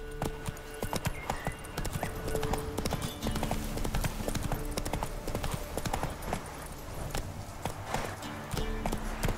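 The horse Roach gallops in The Witcher 3: Wild Hunt, a rapid, continuous clip-clop of hooves with a steady driving rhythm that carries through the whole stretch, and faint game sounds and a voice beneath it.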